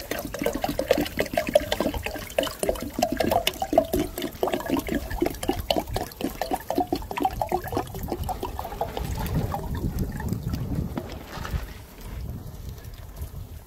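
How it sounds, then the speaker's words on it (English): Two litres of water pour steadily into a Petromax Le14 percolator pot, a continuous splashing gurgle that deepens in pitch as the vessel fills, then tapers to a trickle. "So I'm putting in 2 litres of water here."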